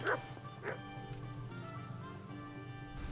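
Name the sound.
dog barking in the video game Kingdom Come: Deliverance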